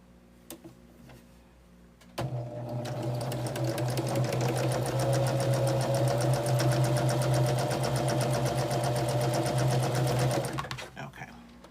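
Sewing machine chain piecing quilt blocks, stitching in a fast, steady, rhythmic run for about eight seconds close up, starting and stopping abruptly with a few clicks before and after.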